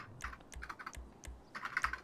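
Typing on a computer keyboard during a PC gaming session, a quick run of light clicking keystrokes in uneven bursts, faint and close, with no voices.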